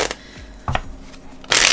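Playing cards shuffled for a Texas Hold'em game, with a brief riffle burst midway and a louder, dense rush of cards at the end, close and with no talk.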